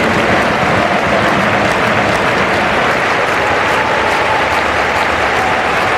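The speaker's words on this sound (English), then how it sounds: "The Volksparkstadion crowd try and raise the decibel level a little bit." Stadium crowd at the Volksparkstadion during a Hamburger SV vs Bayern München women's cup quarterfinal, a broad, steady wash of cheering and clapping that holds loud and unbroken throughout.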